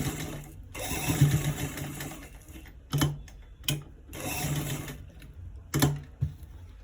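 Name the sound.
sewing machine stitching around a round neck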